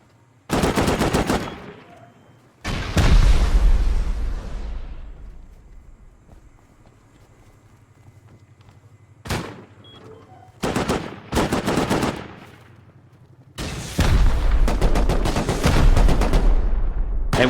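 A base turret in the survival game Rust fires repeated loud, close bursts of automatic gunfire. The bursts are separated by quiet gaps, and faint footsteps and rustling fill the pauses.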